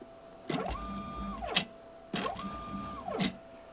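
Homemade MPG handwheel jogs a lathe axis in inch increments, giving two short stepper-motor moves, each a rising then falling whine with a click at its end, separated by a brief pause, close and clean with no talking.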